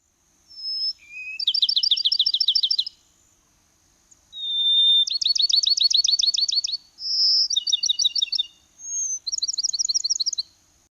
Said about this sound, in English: that would be the Bachman sparrow, which is a bird that's found in the southeastern United States